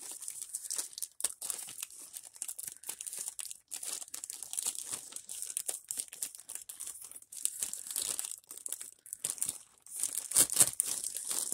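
Cutting open the top of a plastic shipping package holding an H&M clothing haul: close, continuous crinkling and crackling of plastic with irregular rustling bursts and no talking.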